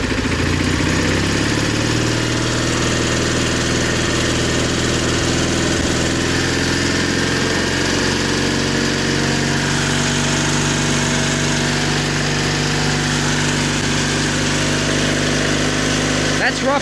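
1984 John Deere 316 lawn tractor engine running continuously, a loud, steady close-up idle with throbbing mechanical rumble and vibration, a voice talking over it at times.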